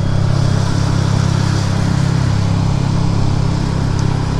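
A loud, close motorcycle idling with an aftermarket OBC exhaust, a steady throbbing low engine note holding evenly with no revving and no voices.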